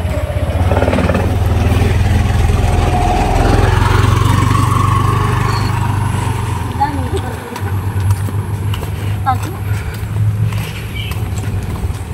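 A motorcycle engine idles close by, a steady low rumble running under lively conversation throughout.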